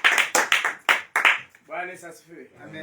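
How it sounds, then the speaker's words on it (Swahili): A church congregation bursts into several rounds of loud, sharp hand clapping in quick succession, then the clapping stops and a voice speaks. "Mpe Bwana sadaka nzuri ya makofi."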